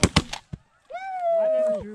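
Shotgun fired at geese during a foggy goose hunt, several sharp close shots in quick succession followed by a goose honking loudly alone.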